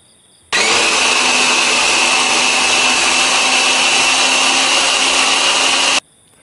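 Electric food chopper mincing sambal ingredients with scallion leaves, a loud steady motor whir that starts abruptly, runs unbroken for about five and a half seconds, then cuts off.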